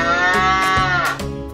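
A cow moos once, a loud, close, drawn-out low call that bends in pitch, used as a counting sound in a children's addition game.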